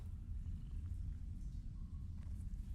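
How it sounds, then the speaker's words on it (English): A cat purrs steadily in the video game Mortal Shell, a soft continuous low rumble heard close and alone, with no talking over it. "you can hear the cat purr whenever you're talking to the guy"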